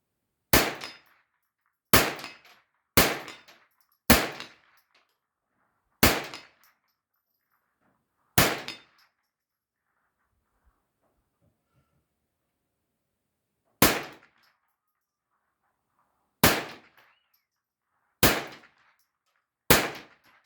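Ten sharp rifle shots from a Derya TM22 firing Aguila 38gn hollow-point rounds at a steel plate about 50 meters out, spaced irregularly with a long pause midway, each a loud crack with a short decay.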